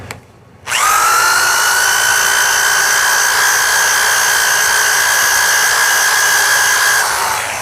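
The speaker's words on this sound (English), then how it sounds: "You might notice that I mounted the flap wheel in a heavy-duty drill." A flap wheel mounted in a heavy-duty drill spins up after a brief pause, then grinds metal in a loud, steady, high-pitched whine that holds for several seconds before easing off at the end.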